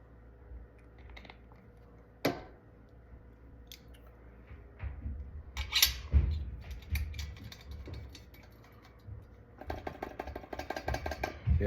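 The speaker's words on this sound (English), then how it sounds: "It's just like non-stop sticking, no matter how much valve oil I put on this thing." Sticky brass instrument valves are pressed repeatedly, giving clicky, mechanical clacks and scrapes that grow busier and louder toward the end, close and with no talking.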